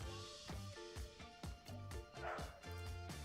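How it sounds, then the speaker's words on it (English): A dog barks repeatedly at birds outdoors, about six sharp woofs in a fairly steady rhythm, close and loud, with no talking over it. "I think he's just barking at the birds."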